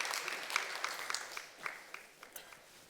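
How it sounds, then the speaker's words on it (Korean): A congregation applauds during a Sunday church worship service, with a soft, steady patter of clapping and a few sharper claps standing out, moderately distant and without talk. "우리 뜨겁게 한번 박수하겠습니다."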